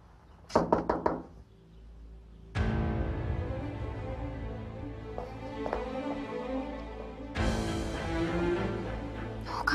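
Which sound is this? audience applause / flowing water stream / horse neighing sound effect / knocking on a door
knocking on a door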